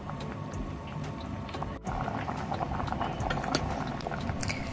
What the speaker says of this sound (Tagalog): So, kuluin muna natin.